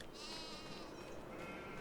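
Sheep bleat in Farming Simulator 25, a single drawn-out, wavering bleat up close with a faint farm background and no talk.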